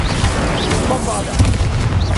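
A Bombarda blasting spell detonates in the Hogwarts Legacy video game, a loud continuous booming explosion rumbling through a roughly two-second burst.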